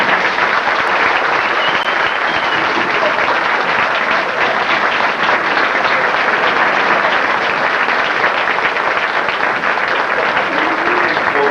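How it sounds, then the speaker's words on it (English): A large audience applauds graduates at a correctional officer training graduation ceremony, a dense, continuous wash of clapping that stays loud and even throughout. "Ladies and gentlemen, let's give them a round of applause."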